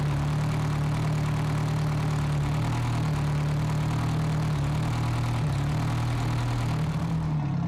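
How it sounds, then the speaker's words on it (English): The engine of an abandoned police car, restored after a swamp, runs on its first start with a steady, low, slightly uneven hum and no voices. "first start attempt after drying and initial repairs. We've got RPM."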